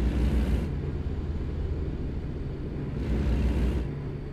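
Deep, beefy truck engine from American Truck Simulator, a steady low rumble with rising and falling throttle swells at the start and again near the end.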